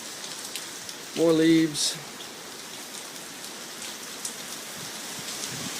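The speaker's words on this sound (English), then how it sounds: "Rain's raining harder." Heavy hurricane Isaac rain pours steadily outdoors, a dense hiss filling the whole stretch while a voice briefly speaks over it.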